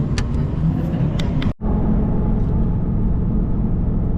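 A car drives along a city road in Atlanta traffic, a steady close engine and road rumble with a brief cut near the middle, no talk.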